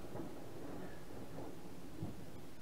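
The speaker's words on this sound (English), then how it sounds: "You have to pardon the lightning thunder in the background." Thunder from an approaching storm in a game world, a low, muffled rumble rolling on continuously with soft rain-like hiss and a few deeper swells, moderately faint throughout.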